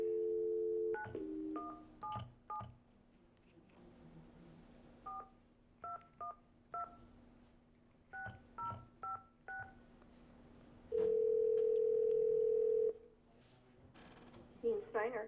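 Telephone keypad dialing tones during a commission meeting call placed on speakerphone: a series of short DTMF beeps in quick clusters, then a long steady tone, with a faint hum and room noise underneath.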